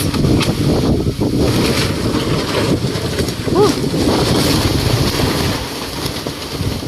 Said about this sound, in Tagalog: Grabe guys, sobrang lakas ng hangin dito.